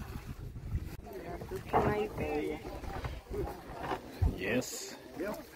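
Small boat on a river in Brazil carrying a cyclist and three motorbikes, giving a low rumbling drone with wind buffeting the microphone while someone talks over it.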